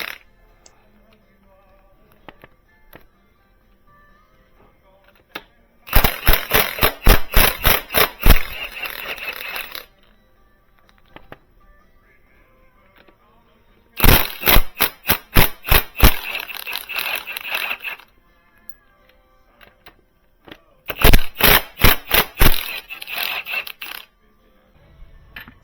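An impact wrench rattles off bolts during a Ford 460 engine teardown, three loud bursts of rapid hammering taps, each lasting a few seconds, separated by quiet pauses.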